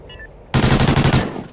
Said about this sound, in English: just get ready for him to start shooting at me